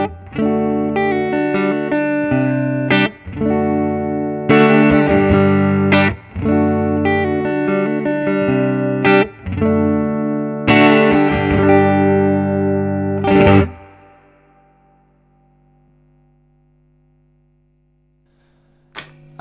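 Electric guitar played on a Fender Custom Shop Stratocaster through a hand-wired Vyse Renegade tube amp with the treble pushed up, warm but bright; sustained chords and riffs ring loudly for about fourteen seconds, then a long fading decay into near silence.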